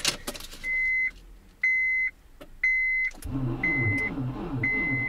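A car engine cranks and catches after a hot battery, warmed in a bath for an hour, is fitted. Several short electronic beeps and key jingles come before it, then the motor fires and settles into a steady, close rumbling idle.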